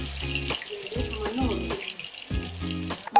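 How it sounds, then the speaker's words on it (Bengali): Halved potatoes fry in hot oil for chicken biryani, a close sizzling hiss that swells and dips, while a voice talks in short bursts over it. "আলুগুলো ভাজা হয়ে গেছে"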